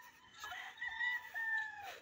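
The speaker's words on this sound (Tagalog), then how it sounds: "Dinig nyo naman yung mga manok." A rooster crows loudly and close by on farmland in Bamban, Tarlac, one long drawn-out call with other chickens around, and no talking.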